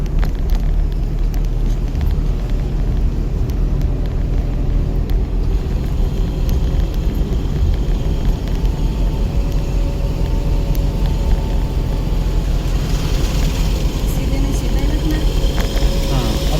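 A learner driver's car engine being revved to climb an incline, a loud, sustained low rumble and hum rising slightly toward the end, with an instructor's voice talking over it.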